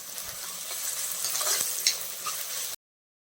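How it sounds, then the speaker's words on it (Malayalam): Large onions fry in a pan for a chicken curry while being stirred toward golden brown, a close, continuous sizzle with scraping stir strokes that cuts off abruptly after nearly three seconds. "ഇത് ഒരു ഗോൾഡൻ ബ്രൗൺ ആവുന്ന വരെ നമുക്കൊന്ന് ഇളകി കൊടുക്കണം."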